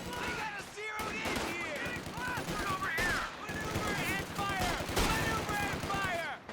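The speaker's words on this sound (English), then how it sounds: "Bit of skirmishing going on." Rapid gunfire and explosions ring out in a Company of Heroes 2 battle, with dense, overlapping bursts of shots running throughout and a voice talking over the skirmish.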